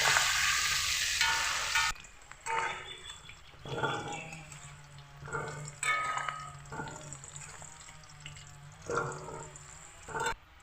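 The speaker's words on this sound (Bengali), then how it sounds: "হলুদ লবণ দিয়ে আলুটাকে ভালোভাবে ভেজে নেবে" Potatoes frying in a pan with turmeric and salt, a steady sizzle running throughout with repeated louder scraping and stirring bursts of a spatula, close and fairly loud with no talking.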